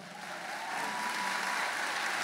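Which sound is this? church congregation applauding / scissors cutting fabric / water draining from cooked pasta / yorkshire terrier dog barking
church congregation applauding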